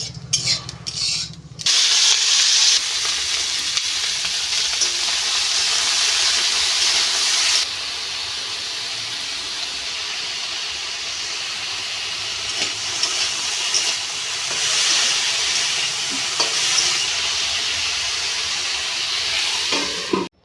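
Leafy greens with beans sizzle and hiss steadily in a pan, a loud continuous frying noise with occasional stirring scrapes, no voices.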